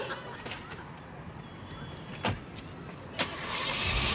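A car engine turns over and runs at a low idle and rev, with a couple of sharp clunks, building toward a louder roar as the vehicle pulls away.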